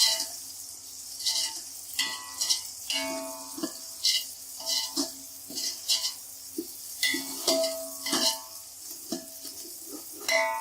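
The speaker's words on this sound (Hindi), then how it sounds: "मटर 5 मिनट के लिए फ्राई करेंगे" Green peas and lightly browned onions frying in a pan for vegetable pulao, a continuous sizzle broken by frequent rhythmic spatula scrapes and clinks against the metal, close and steady, with no speech.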